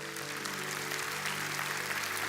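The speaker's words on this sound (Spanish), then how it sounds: "que le dé un aplauso al Señor" Steady, dense applause from a church congregation fills the space alone, a continuous even wash of clapping with a faint low hum underneath.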